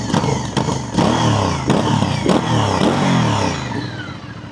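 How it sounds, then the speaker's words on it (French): An Aprilia Dorsoduro 900 motorcycle engine idles roughly with short throttle blips, giving a loud, close, steady rumble broken by a few sharp backfire pops. "Pour la faire pétarader, on n'a même pas besoin d'appuyer beaucoup sur l'accélérateur, je fais juste des petits coups comme ça."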